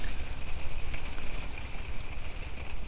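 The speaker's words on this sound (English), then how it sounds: "Forgive the noise, it's raining heavily outside." Heavy rain falling outdoors, a dense, steady hiss of drops that continues unbroken and fairly loud, with no voices over it.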